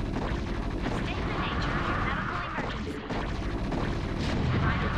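Siege tanks fire heavy booming shots amid constant battle noise in StarCraft: Brood War. The dense, loud rumble runs without a break, and a voice talks over it.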